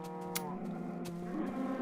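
Cows in the video game Minecraft giving a long, steady moo, fairly quiet, with a few short clicks and taps scattered over it and no talking.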